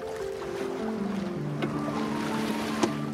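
A racing sailboat tacks at sea. Wind rushes and waves wash steadily around the hull, and tonal creaks and hums from the rigging shift in pitch, with a sharp knock near the end.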